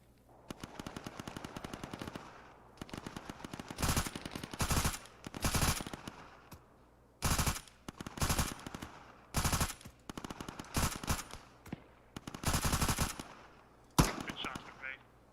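Gunfire in the tactical shooter game Arma 3 rattles out in repeated automatic bursts, each lasting a second or so, separated by short pauses. The shots are loud and close with a sharp crackle.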